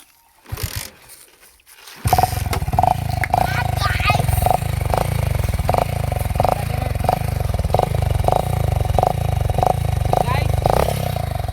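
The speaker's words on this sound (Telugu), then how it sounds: "ఇప్పుడు బండిని అయితే స్టార్ట్ చేయబోతున్నాం" A motorcycle is started after a few brief attempts, then its engine catches and runs loudly up close with a steady throbbing idle. A person talks over it.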